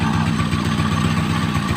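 A Motorstar Star-X 125 motorcycle engine idles loudly and steadily nearby with a rough, pulsing clatter from a noisy engine fault.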